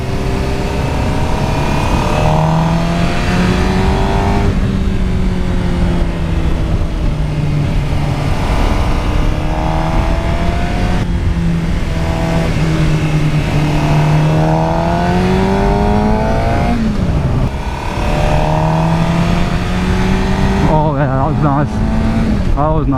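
Suzuki GSX-R 600 sportbike with a Yoshimura exhaust ridden at full throttle, its engine screaming loud and close as it climbs through rising and falling revs with shifts, heard continuously from onboard.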